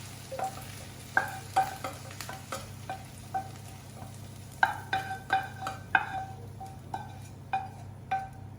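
Onions sizzle steadily in a pan, frying to golden brown, while a utensil repeatedly clinks and scrapes against it, with no one talking.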